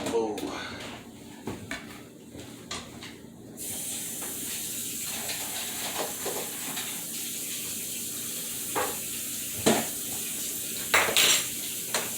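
Dishes and cutlery clatter in a home kitchen as a bowl is taken out, with scattered clinks and knocks over a steady background hiss and brief talk.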